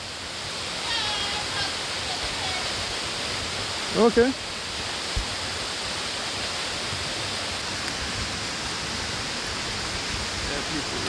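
Outdoor waterfall roaring as a steady dense hiss of falling water, continuous and loud, with a brief spoken word partway through.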